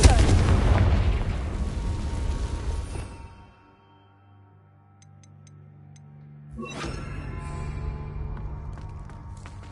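In a video game, a Confringo blasting spell bursts with a heavy, booming explosion that rumbles for a few seconds and fades out, followed after a short quiet spell by a second blast.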